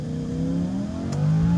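Lamborghini Huracan accelerating hard on a racetrack, its engine tone climbing steadily in pitch with a brief shift blip near the end, loud and close from inside the car.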